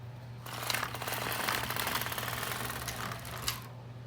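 A double bed knitting machine carriage is pushed back across the needle beds, making a close, rapid clattering rattle of needles over a steady low hum for a few seconds.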